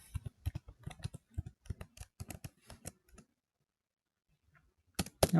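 Rapid, close keystrokes on a computer keyboard type a new password in a quiet room, a run of about three seconds, then a pause, then a final burst of key clicks.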